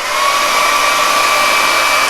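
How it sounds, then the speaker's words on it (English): A handheld hair dryer blows on its hot setting, a steady close whooshing roar with a faint whine running unbroken for the whole stretch, warming styling clay on a handlebar mustache. "take the hair dryer"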